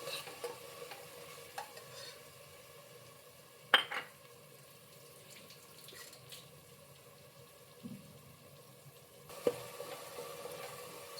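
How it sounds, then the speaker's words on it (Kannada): Tamarind juice frying in oil on low heat for bisi bele bath gives a faint, low sizzle, with a few soft clinks and scrapes of stirring scattered through it and no talking. "ಅದು ಎಣ್ಣೆಲಿ ಸ್ವಲ್ಪ ಫ್ರೈ ಆಗಲಿ ಹುಣಸೆಹಣ್ಣು ರಸ"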